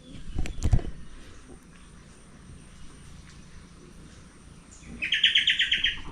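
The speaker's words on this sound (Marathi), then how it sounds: "पाटी जो पक्षी ओरडतो आहे ना त्याला चिचोरी बोलतात" A small bird known locally as chichori gives a quick burst of rapid, high chirps near the end, after a thud and quiet outdoor background, in a village field in the evening.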